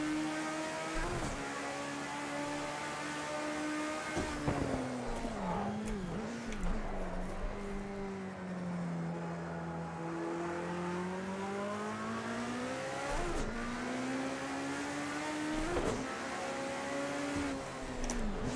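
Race car engine from the Project Cars 2 racing game, Group 5 car with a five-speed H-pattern manual, steady loud whine rising and falling through gear changes over nearly twenty seconds, continuous with no talk.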